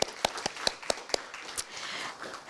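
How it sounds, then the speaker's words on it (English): Sparse, sharp claps from a small audience at a city event, about half a dozen distinct hits in quick succession that trail off into quieter scattered clapping. "Let's give them a round of applause, please."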